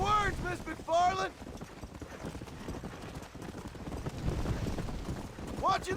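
A horse galloping in the video game Red Dead Redemption, steady rhythmic hoofbeats close by with wind rushing past. Brief spoken lines come at the start and end.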